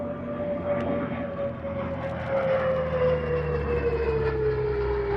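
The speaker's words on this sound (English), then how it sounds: "Now a glimpse of the Boomerang, an aircraft formerly owned by the world-famous Temora Aviation Museum." A CAC Boomerang propeller fighter flying past at the Wings Over Illawarra 2021 airshow, a steady, loud engine drone with a slowly falling pitch as it passes, no talk.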